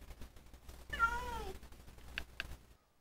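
A cat in Minecraft Bedrock gives one clear, drawn-out meow with a falling pitch, fairly close, over faint game background noise and a couple of short clicks.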